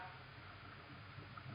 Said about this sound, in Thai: แล้วคุณจะได้ยินเสียงเครื่องยนต์